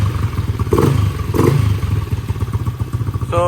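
A Yamaha LC motorcycle engine with a TS Racing 32 exhaust idles with a throaty, pulsing note, giving a couple of short revs early on, close and steady throughout.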